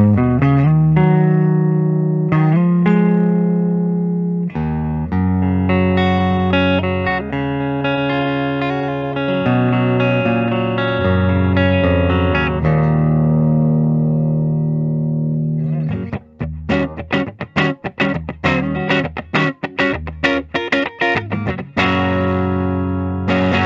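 A 2021 Gibson Les Paul Blood Moon electric guitar in satin black cherry, played through an amplifier on the neck pickup: sustained chords ring out loudly with a woody tone, then give way to a run of sharp, choppy strums.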